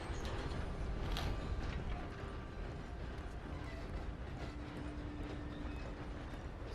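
A video game train runs on its rails with a steady, dense rumble and faint rattling clicks, heavier at first and then settling, with no voices.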